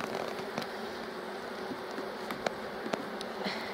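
Honeybees in an opened garden hive drone in a dense, continuous buzz up close, with a few sharp faint clicks and taps over the swarm.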